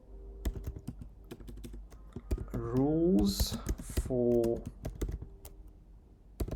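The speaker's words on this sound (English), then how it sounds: "So just begin typing" Rapid keyboard typing, a steady run of sharp clicks close by, with a person speaking over part of it.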